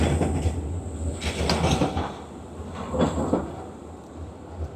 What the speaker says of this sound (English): So tram is coming, come on,